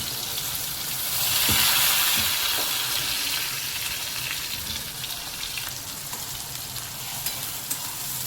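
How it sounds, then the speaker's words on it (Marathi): Onion and garlic fry in hot oil, giving a bright, continuous sizzle that swells briefly early on, with scattered spoon taps and scrapes close by. "तेलात छान फ्राय करून घ्यायचं आहे"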